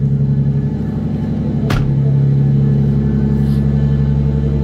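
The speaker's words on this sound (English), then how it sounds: "The vehicle starts." A 2012 Mini Cooper engine idles with a steady low rumble, marked by a sharp brief click partway through and then running on at an even level.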